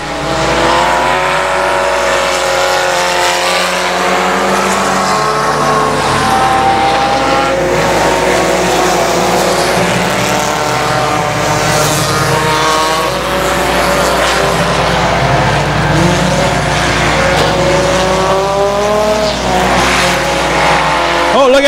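Race cars roar around the I-37 Speedway oval in a continuous loud drone of engines, with lap traffic and a truck mixed in, pitches shifting as cars pass throughout.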